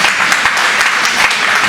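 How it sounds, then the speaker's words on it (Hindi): A seated crowd at a Holi comedic poetry recital bursts into a steady, dense round of clapping, loud and close, continuing evenly with no speech over it. "एक बार ताली बजाओ ढंग से,"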